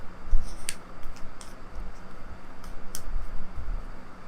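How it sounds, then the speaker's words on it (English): A tarot card deck being shuffled gives soft papery riffles and a few sharp snapping flicks, faint and close, with no talking. "I need to shuffle more into this deck"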